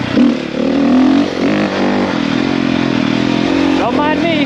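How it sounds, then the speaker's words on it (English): A dirt bike engine drones and revs loudly up close while the rider pulls wheelies on an outdoor trail, with a voice talking over the engine noise. "Just ripping wheelies. Just out for a rip."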